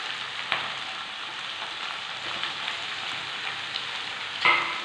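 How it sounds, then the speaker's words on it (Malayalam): Sliced onions with green chillies sauté in a pan for chicken curry, giving a soft, even sizzle throughout with a couple of brief clinks of a utensil, fairly quiet and close. "സവാളയും ഈ പച്ചമുളകും എല്ലാം നന്നായിട്ട് ഇഞ്ചി വെളുത്തുള്ളിയുടെ ഒക്കെ പച്ചക്കുത്ത് പോകുവോളം നമുക്ക് നന്നായിട്ടൊന്ന് വഴറ്റി കൊടുക്കാം"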